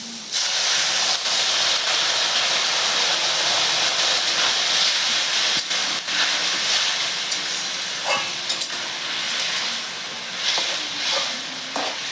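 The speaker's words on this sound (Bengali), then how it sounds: "এখন আমি গরম জলটা দিয়ে দিচ্ছি" Hot water poured into a frying pan of fried potatoes gives a loud, continuous steam hiss and sizzle, with a few sharp clinks and scrapes of stirring and no talking.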